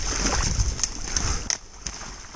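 Footsteps sloshing and splashing through shallow wetland water during a long walk across Michigan, a run of close wet splats and sloshes, loud at first and thinning toward the end.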